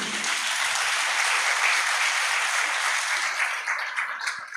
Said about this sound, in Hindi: आप लोग अपने लिए एक बार ताली जरूर बजा दीजिए।